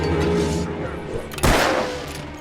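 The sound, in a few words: gunfire in the video game Alan Wake Remastered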